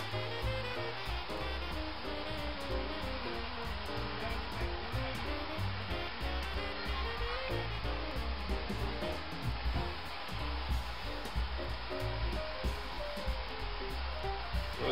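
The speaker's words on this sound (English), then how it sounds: "I got just a little propane torch here, and I'm going to go ahead and add a little heat." A small propane torch blasts a steady, loud roaring hiss while heating metal for a rust patina, continuous throughout without any talk.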